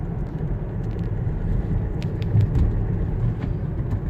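A high-mileage Land Rover's 2.2 diesel engine drones as a steady, close low rumble from inside the moving vehicle, with a slight swell in loudness midway and no voices.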